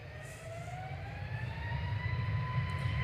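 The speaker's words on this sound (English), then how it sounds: "Ryanair to Forteventura, 9HVUU, operated by Malta Air, flight 3805, it's a MAX 8." Ryanair Boeing 737 MAX 8 operated by Malta Air at Manchester Airport, its jet engines roaring steadily with rising whining tones that slowly build in loudness as it passes.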